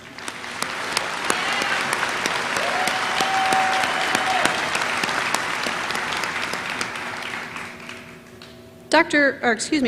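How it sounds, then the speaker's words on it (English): A commencement audience at Missouri Western State University claps in steady, dense applause for about nine seconds, with a faint tone running through the middle and brief amplified sounds near the end. "So please, won't you join me in giving them all a warm round of applause?"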